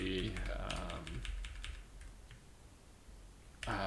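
Typing on a computer keyboard during a coding session, with a dense run of quick clicks up front that thins to scattered taps, brief talk at the start and end.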